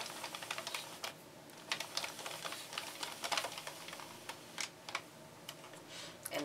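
A Mini Sentro knitting machine is cranked slowly while a flat panel is being knitted, giving a steady run of quiet, dense clicks and ticks that carry on without a break at close range.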